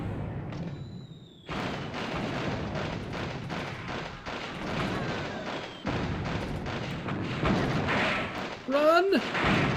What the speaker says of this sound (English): Ooh, mortar somewhere.